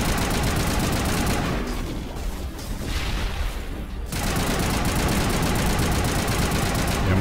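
Rapid, dense gunfire fills a Mass Effect battle against a large enemy, sustained and loud with a brief lull in the middle before the shooting surges back.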